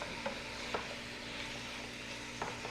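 Chicken and peppers saute in a pan with a steady, soft sizzle throughout, broken by a few sharp clicks of a utensil against the pan.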